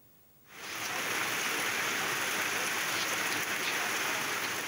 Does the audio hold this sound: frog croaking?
no